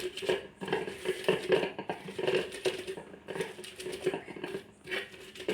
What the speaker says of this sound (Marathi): असं तांब्यानं रगडायचं एकदम बारीक होतो